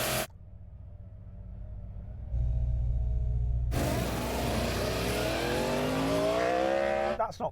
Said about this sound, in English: He's warming up his tyres.